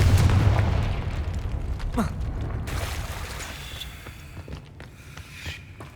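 A Confringo fire spell explodes in Hogwarts Legacy with a heavy, rumbling boom at the start that decays over several seconds, followed by a quick whoosh and a few lighter impacts.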